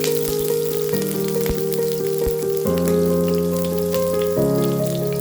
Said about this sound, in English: Sauté 6 cloves of diced garlic, diced onions, and diced parsley until translucent.